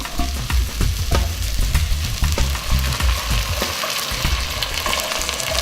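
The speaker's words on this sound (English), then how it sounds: "I'm basically going to cover the bottom of the pot with wine and let it evaporate down a little bit" Wine poured into a hot beef stew pot sizzles and crackles steadily, a loud close frying hiss with bursts of bubbling throughout, no voices.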